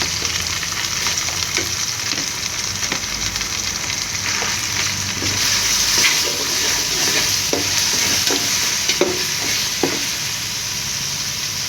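Garlic and ginger sizzle steadily in hot oil in a pan, a constant bright frying hiss close by, punctuated by occasional soft knocks of a stirring spoon, with no talking.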